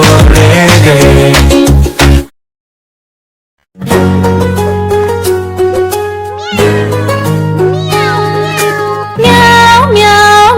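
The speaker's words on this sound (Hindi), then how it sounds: "बिल्ली करती म्याऊ म्याऊ" A cartoon cat meows over and over, loud and close, inside a bouncy Hindi nursery rhyme. The sung music carries on under it and drops out briefly to silence partway through.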